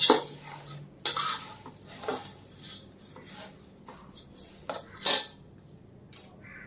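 Thin poha chivda being stirred in a metal pan, a run of distinct scraping and clattering strokes of a spoon against the pan with faint sizzling between them, close and fairly loud.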